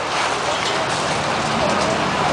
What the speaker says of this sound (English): It's raining like crazy, man.